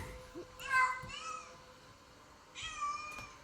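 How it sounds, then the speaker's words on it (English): Recorded cat in heat yowling in two drawn-out, wavering calls a couple of seconds apart, moderately loud and close, with faint background voices. "So cats in heat say Elmo"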